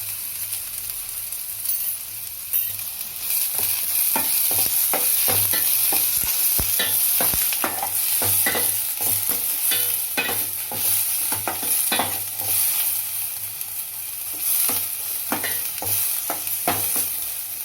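Onions fry in about three and a half spoons of hot oil for a potato curry, a steady loud sizzle broken by repeated clacking stirs of a spoon against the pan, with no talk.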